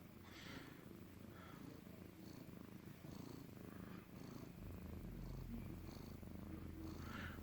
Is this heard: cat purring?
yes